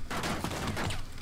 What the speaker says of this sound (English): Who the fuck just shot?